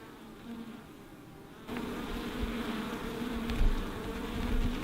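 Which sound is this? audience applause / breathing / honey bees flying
honey bees flying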